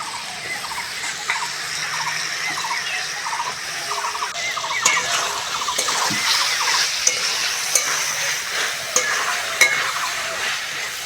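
Soaked soybean chunks go into a hot pan and are stirred, a continuous bright sizzle with rhythmic spatula scrapes and occasional sharper clinks throughout.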